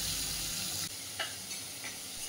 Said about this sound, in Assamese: এইবাৰ দিছোঁ বিলাহীখিনি আৰু ধুনীয়াকৈ ভজা যাবলৈ থৈ দিম